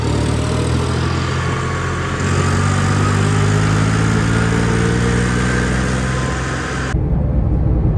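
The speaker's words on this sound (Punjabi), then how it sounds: "ਚੈੱਕ ਕਰੋ ਟਰੈਕਟਰ ਦੀ ਸਪੀਡ" A John Deere 5105 tractor engine idling and running throughout, a low rumbling drone that stays constant, close and fairly loud, with no voices.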